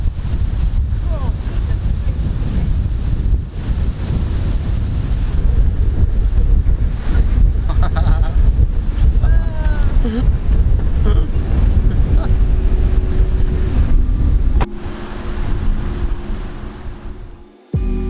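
Strong wind on the Baltic Sea coast in southern Sweden roars and buffets the microphone in heavy, continuous gusts, with surf underneath and a few faint bird cries partway through, before the noise drops sharply near the end.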